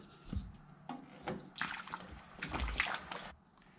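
Lacquer thinner is poured into a mix for a trash-picked lawn tractor, making soft liquid splashes and trickles in several short bursts, quiet and close.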